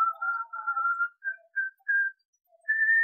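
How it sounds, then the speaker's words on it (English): A person whistles a series of short, clear notes with pauses between them, fairly soft and alone in a quiet setting. "After a while, I heard him whistle."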